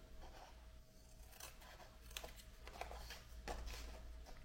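Scissors cut paper to make a pocket for a baby scrapbook album, producing soft, scattered snips close by over a steady low hum.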